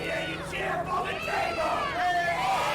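A wrestling crowd at a tables match cheers and chants, swelling and dipping in waves, with shouts rising out of the noise.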